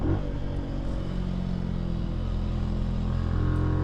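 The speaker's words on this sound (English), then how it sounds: "you hear a lot of intake. It's a grunty sound." A low, grunty 2022 Benelli TNT 135 motorcycle engine growl holds steady and close, a deep rumbling intake note with no speech over it.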